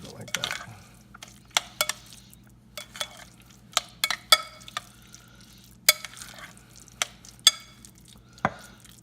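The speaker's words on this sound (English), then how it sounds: "Take a little bit of the pico that I've made, put that in there" Pico de gallo is tossed into guacamole in a bowl, a series of soft wet clacks and stirring knocks spaced irregularly, close and fairly quiet over a low background hum, with a voice speaking now and then.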